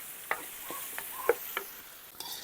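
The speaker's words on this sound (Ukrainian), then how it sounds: "Смажемо цибулю." Onions frying in oil in a cauldron over a wood fire outdoors, a soft steady sizzle with a few sharp crackles and stirring clicks, fairly quiet and close, with no talking.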